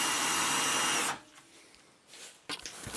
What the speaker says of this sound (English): I'm just using the drill to run this back and forth